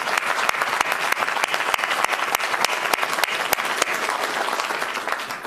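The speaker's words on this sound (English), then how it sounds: "Let's have a round of applause for our" Crowd applause at an election victory speech in Illinois, a dense, steady wash of many hands clapping close by for several seconds.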